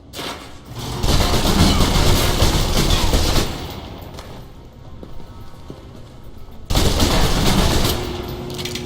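Submachine gun fire in the video game Alpha Protocol comes as loud rapid bursts of automatic shots, with a quieter lull between two heavy volleys.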